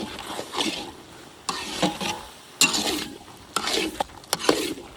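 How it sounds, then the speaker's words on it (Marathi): Jaggery is stirred and sautéed in a pan during onion chutney preparation, giving a series of scraping, clattering stirring strokes with a soft sizzle underneath, close and moderately loud, with no talking. "व्यवस्थित परतवून घेऊ गुळ आपण."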